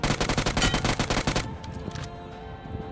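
Rapid automatic gunfire in a squad-based battle royale shooter game, a burst of about a dozen loud, evenly spaced shots, then quieter scattered game sounds and a faint tone.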